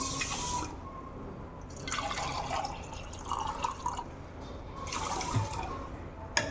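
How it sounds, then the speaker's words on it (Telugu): Water is poured in the kitchen during cooking, coming in a few splashing bursts with quieter running and dripping between them, close by. "వాటర్ పోసేసి"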